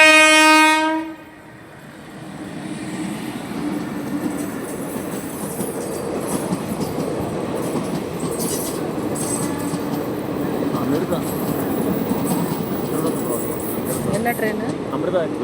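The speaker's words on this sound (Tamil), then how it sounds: "ட்ரெயின் வந்துச்சு ஒன்று." A train horn blasts briefly, then a loud, steady rumble of the Amritha Express rolling past close by at a railway level crossing goes on without a break.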